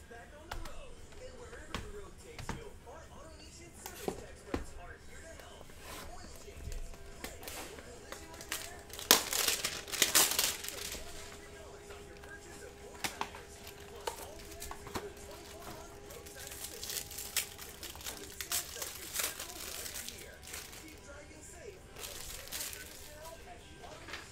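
Foil packs of 2019 Panini Donruss Football trading cards being torn open, a burst of crinkling and ripping in the middle with lighter rustling and taps around it, close and fairly quiet.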